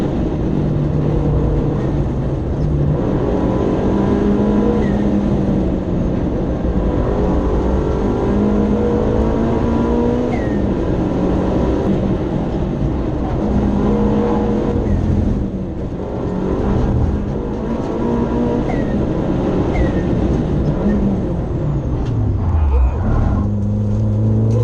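A time attack race car out on track at a shakedown, its engine droning loud and close with rising and falling revs as it accelerates and brakes through corners, a sustained roar with a sharp dip near the end.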